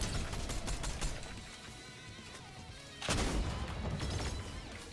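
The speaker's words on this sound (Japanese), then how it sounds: "こっち銃声なってんな" Gunfire rings out in a Fortnite match: a rapid spray of sharp shots plays against dense game sound, eases off mid-clip, then a fresh loud burst of firing starts and continues.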